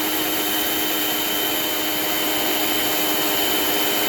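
An electric mixer beats cookie batter with a loud, constant whirring hum that holds steady throughout, with no voices.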